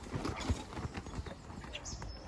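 Horse hooves clip-clop at a quick, somewhat hurried trot in a dusty dressage arena, a soft, fairly close rhythmic patter beneath background chatter.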